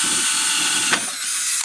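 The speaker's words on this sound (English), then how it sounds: "help me drill this hole straight" A power drill bores a hole into an electric drift kart, whining at a steady high pitch with a brief catch midway before spinning down at the end, close and loud with no talk.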